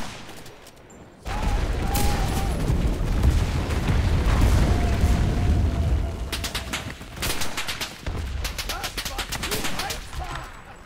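Dense gunfire and booming blasts from the WWII shooter Enlisted roll on continuously, with a burst of rapid machine-gun cracks near the end. Voices talk faintly underneath the battle noise.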